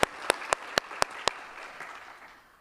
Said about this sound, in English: And let's give another round of applause to Kekla Magoon, Natasha Donovan, Thomas Kin